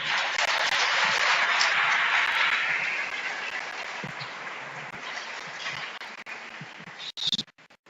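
A church congregation at Igreja Batista Ágape applauding, with dense broad clapping that starts strong and slowly fades, followed by a few scattered claps at the end. No one speaks.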